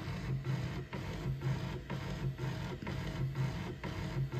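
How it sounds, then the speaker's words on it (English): A Geeetech M1 mini 3D printer printing a Benchy boat hums steadily with rhythmic stepper-motor whirs and repeating pulses close by, with no voices. "I just started printing the Benchy. It's doing its little dance."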